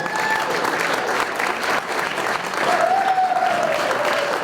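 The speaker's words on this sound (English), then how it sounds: "So if you give them a round of applause." An audience at a high school athletic hall of fame induction gives a round of applause for student athletes; the clapping is loud and continuous, swelling slightly toward the end, with faint murmurs underneath.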